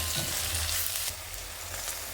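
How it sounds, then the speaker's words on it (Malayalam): Slit green chillies sautéing in hot oil in a pan while making a Kerala-style pork curry, giving a steady, close sizzle with a faint stir partway through. "കീറി വെച്ച പച്ചമുളകും കൂടെ ഇതിൻ്റെ കൂടെ ഇട്ടിട്ട് എല്ലാം കൂടെ ഒന്ന് വഴറ്റിയെടുക്കണം"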